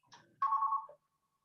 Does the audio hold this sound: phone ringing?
yes